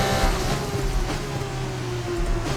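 Formula 2 race cars in the F1 25 video game at the British circuit, a steady engine drone with a sustained high whine holding throughout, cars running close together on a straight with no talk.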